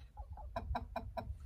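Chickens cluck close by in a quick run of five or six evenly spaced, throaty clucks.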